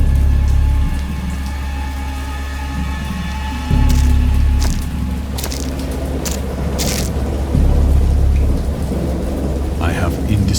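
Thunderstorm sound effect with heavy rain and loud, rolling thunder rumbles that swell and crash, with sharper cracks and spattering drops over the downpour.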